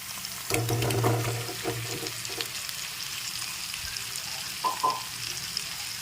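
Potatoes being stirred into masala for achari aloo dum, a steady soft sizzle in the pan with scraping stir strokes and clinks near the start, fairly quiet and close, no talking.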